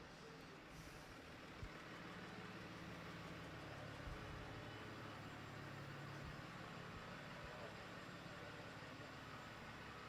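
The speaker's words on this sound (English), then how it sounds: "I mean, you can hear that diesel purring right now." Diesel truck engine idling at a car dealership, a steady, unbroken low rumble that stays even throughout with no voices over it.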